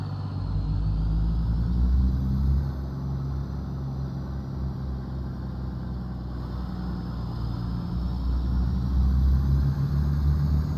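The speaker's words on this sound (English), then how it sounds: "But this particular engine is a little louder." A truck engine runs in American Truck Simulator, a steady loud low idle-like drone with deep rumbling harmonics that holds nearly unchanged for about eleven seconds with no talk.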